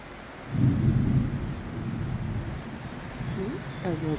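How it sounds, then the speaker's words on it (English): Thunder rumbles low during rain in nature, a deep roll swelling early then fading into a soft steady wash of rainfall, with a second faint rumble near the end. "A little grounding thunder."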